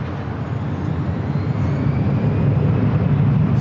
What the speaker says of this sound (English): SAS Flight 931 and coming from Copenhagen, arriving there on the south side